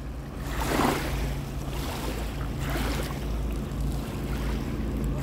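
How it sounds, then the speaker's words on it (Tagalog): Strong ocean waves surge and wash near a small boat at sea while a ship approaches, a continuous rushing roar with wind and periodic swells of spray. "May dumarating na barko."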